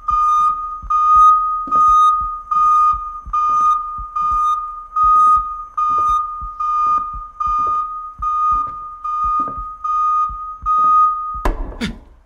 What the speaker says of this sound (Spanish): La alarma, hostias, la alarma.